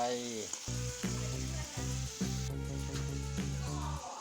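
Pork belly stir-fried in a pan with sugar, sizzling steadily and loudly throughout with faint stirring scrapes and a steady droning tone underneath.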